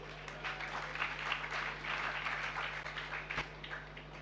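A sermon hall audience applauds in a steady, faint wash of clapping from a crowd, sustained throughout with no talking over it.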